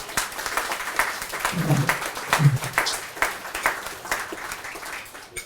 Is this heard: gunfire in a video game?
no